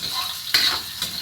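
Chopped garlic and ginger sizzle in hot oil in a pan for tinola, a bright steady frying hiss broken by two quick stirring scrapes.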